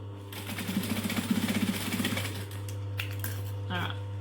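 A sewing machine stitching stiff vinyl for a clutch bag, a quick run of rhythmic mechanical thumps for about two seconds over a steady hum, followed by quieter handling sounds.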